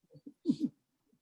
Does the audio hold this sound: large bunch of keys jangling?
no